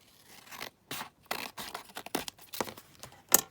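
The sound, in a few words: cutting down a junk journal page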